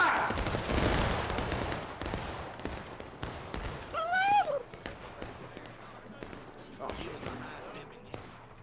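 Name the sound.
musket volley fired by line of soldiers in a video game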